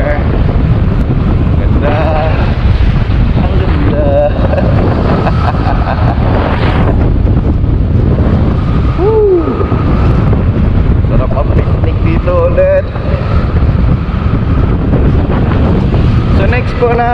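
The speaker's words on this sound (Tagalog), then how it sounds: "Ito po, isang hangin." Strong sea wind along the coastal boulevard of Osamis buffets the microphone in a loud, continuous roar, with faint traces of voices and other activity buried beneath it.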